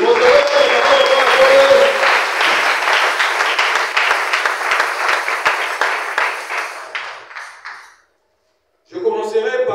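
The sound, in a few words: congregation applauding and cheering in church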